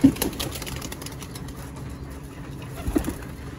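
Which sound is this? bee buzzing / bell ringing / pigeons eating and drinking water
pigeons eating and drinking water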